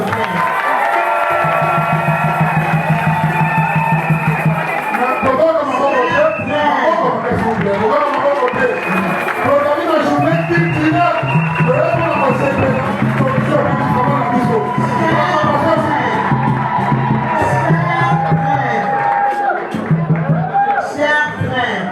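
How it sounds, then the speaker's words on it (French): A large crowd applauds and cheers for a performer, with dense clapping, whoops and shouts filling the whole stretch while a voice carries on over the noise and music. "Applaudissons pour notre frère."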